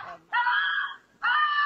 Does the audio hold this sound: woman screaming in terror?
yes